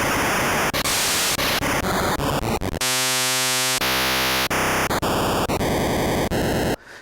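Nintendo Game Boy noise channel driven by the LSDj tracker with a programmed noise shape: harsh, loud chiptune static that shifts rapidly between hissing bursts and buzzy pitched tones, with abrupt changes and a brief tonal hold, ending suddenly.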